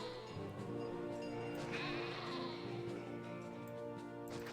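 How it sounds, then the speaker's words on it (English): A flock of sheep in Caesar 3 bleating repeatedly over a steady background of game music and ambient hum, several overlapping calls at moderate distance as the herd runs through town. "there's a herd of sheep running through our town"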